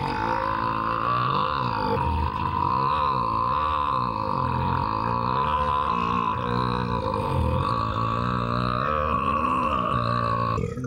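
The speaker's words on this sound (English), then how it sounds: "he lets out the longest burp in history" A long, loud, continuous burp rumbles unbroken for about eleven seconds in the dinner table scene from the film Elf, wavering in pitch throughout.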